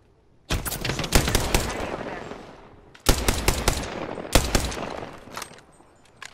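Automatic weapon fire from the video game Apex Legends rattles in two long, loud bursts of rapid shots separated by a brief pause, with a shorter trailing volley afterwards.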